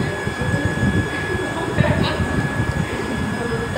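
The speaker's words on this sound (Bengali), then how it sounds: "এখন 6:05 বাজে, আমি গোপালনগর স্টেশনে এলাম।" Train rumbling at Gopalnagar railway station, a loud, steady low roar of wheels and carriages with a faint high whine, voices under it.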